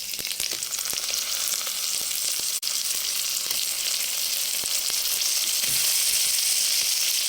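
Meat frying in a pan with browned onions, for an okra stew, with a loud, steady sizzle and crackle throughout, a few stirring clinks and a brief dip partway through.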